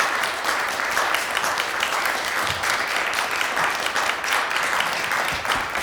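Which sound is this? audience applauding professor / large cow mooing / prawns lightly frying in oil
audience applauding professor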